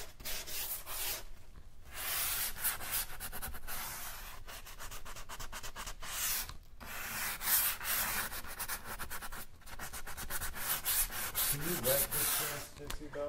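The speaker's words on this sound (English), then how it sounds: "So I just take this and really sand out that corner." Sandpaper rubs steadily and firmly over the corner of a painted piece of furniture to distress it, a close, continuous scratchy sanding with brief pauses and no talk.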